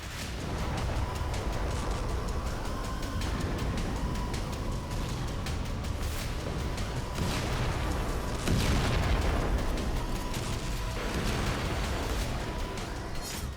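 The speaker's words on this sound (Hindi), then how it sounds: "पर यूक्रेन में धमाके नहीं रुके" Explosions in the Russian war in Ukraine: continuous loud rumbling booms and blasts, several heavier bursts standing out over a dense, sustained roar with no voices.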